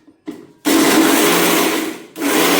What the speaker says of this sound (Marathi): आता याला आपण बारीक करून घेऊया.